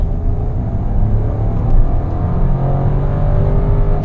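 Inside a VW Polo as the engine revs up under hard acceleration, a steady, loud rising drone with road rumble beneath, close and without pause.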